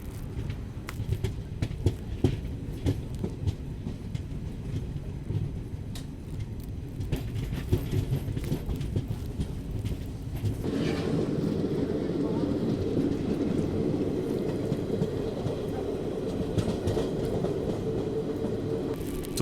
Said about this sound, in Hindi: ओवरटेक के बाद फाइनली अपनी गाड़ी अब निकल चलती है पानीपत जंक्शन की ओर।